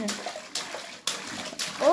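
Water in a swimming pool splashing in repeated bursts about every half second, close and lively, with children's voices mixed in.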